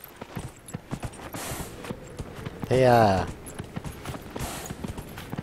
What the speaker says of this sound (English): At least I'm on a horse now.